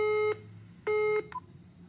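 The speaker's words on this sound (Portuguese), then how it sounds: "Aguardo dar os 2 bips." Two steady electronic tones from an Intelbras Comunic 16 intercom system, each about a third of a second long and about half a second apart, clear and close in a quiet room.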